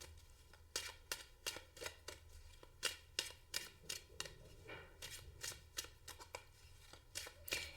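Tarot cards being shuffled by hand, a quiet run of crisp riffling flicks and taps in an irregular rhythm, close but faint, with no talking.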